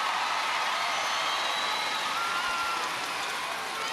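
A netball crowd at an ANZ Championship match between the Mystics and the Magic roars and applauds in a dense, steady wash of cheering that stays loud throughout.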